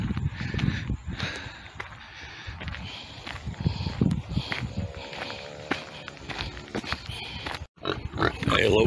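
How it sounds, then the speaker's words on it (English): Pigs grunt and oink at feeding time in a countryside farmyard. Scattered snorts mix with footsteps and shuffling nearby, and a voice is faintly heard. "Hello piggies."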